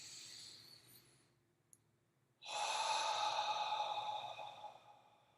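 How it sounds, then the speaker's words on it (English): A single deep breath drawn in and released, a soft airy inhale after a brief pause followed by a longer, louder exhale, close and alone in a quiet room. "take a deep breath"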